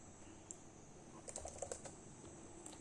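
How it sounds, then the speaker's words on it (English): Text being typed on a computer keyboard, a short run of faint, quick key clicks clustered in the middle over a steady background hum, with no voices. "Now type the text, any text here."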